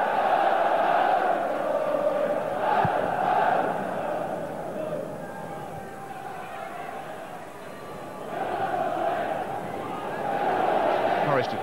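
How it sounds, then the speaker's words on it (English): A football stadium crowd at a 1995-96 UEFA Cup tie between Nottingham Forest and Lyon cheers and chants in steady waves, swelling loud, dipping, then rising again, with commentary running over it. "Crowd here trying to lift them."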